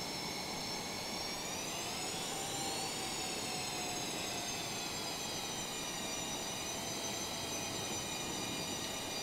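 Eurofighter Typhoon twin jet engines in a flight simulator while taxiing, with a steady, loud turbine whine and roar that holds constant and briefly swells in pitch before settling.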